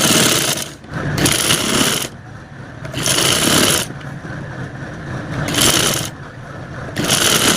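Sewing machine stitching fabric for a stylish kurti, running in several loud bursts of steady whirring with short pauses between runs, no voices.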